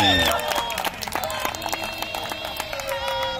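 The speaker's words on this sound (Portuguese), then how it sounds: "E a torcida se mexe. E a torcida se manifesta." A crowd cheers and claps at a mixed beach volleyball match in an arena at a shopping centre in Teresina, a steady broad roar with scattered claps throughout.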